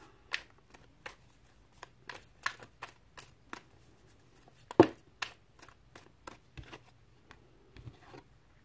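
Tarot cards being shuffled and cut in a series of crisp, close riffles and flicks spread steadily throughout, with one sharper snap near the middle; no talking.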